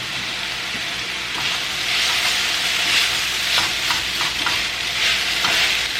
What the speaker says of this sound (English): I'm going to use a little balsamic just to deglaze this pan a bit.